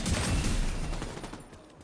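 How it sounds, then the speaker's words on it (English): Rifle and automatic gunfire in The Division 2, a loud rapid volley of shots that fades over about two seconds, with no talking. "Somebody shot at me."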